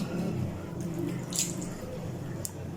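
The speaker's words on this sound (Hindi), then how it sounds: "इसमें थोड़ा सा हम पानी ऐड करते हैं" Lukewarm water poured steadily into flour for puri dough, a continuous soft splashing and trickling at close range with a couple of faint clinks.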